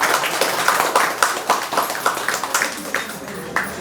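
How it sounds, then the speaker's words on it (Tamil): An audience at a Murugan exhibition in Kanchipuram gives a burst of applause, dense at first, then thinning into scattered uneven claps close by. "ஒரு மிகப்பெரிய கைத்தட்டல் கொடுக்கலாம்"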